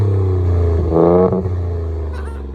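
Ford EcoBoost engine with a straight-pipe exhaust, heard close and loud as it idles, surges through a sharp rev, then drops back to a rumbling idle.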